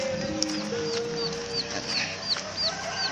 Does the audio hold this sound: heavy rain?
no